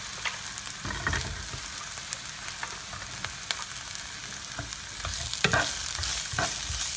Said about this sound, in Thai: ผัดไปสักพักหนึ่งครับ ให้แครอทมันสุกนิดนึงครับ